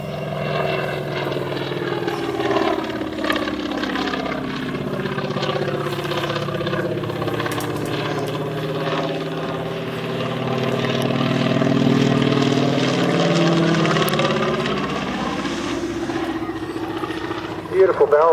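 A CAC Wirraway's big round radial engine drones at an air race, its throbbing rumble rising and falling in pitch as the aircraft passes low and slow, with a commentator talking over it.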